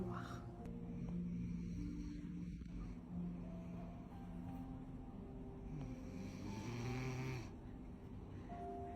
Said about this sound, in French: Tu ronfles, tu sursautes.